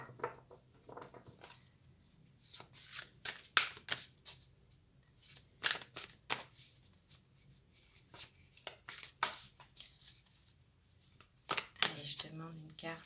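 A deck of oracle cards being shuffled by hand at a table: repeated crisp riffling and flapping bursts in uneven rhythm, close and clear, with a voice speaking in between.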